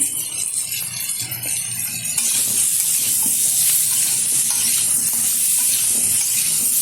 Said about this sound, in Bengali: দু থেকে তিন মিনিট মতো আমি নেড়ে ফেলে নিচ্ছি তেলের সাথে